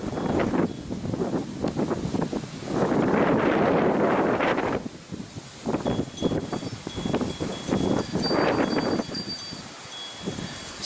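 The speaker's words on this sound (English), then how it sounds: "now the wind is coming straight from the south, really picking up. You hear those trees" Strong gusting wind roars through trees during a Texas storm, swelling in long loud surges with brief lulls, the rustle close and continuous with buffeting against the microphone.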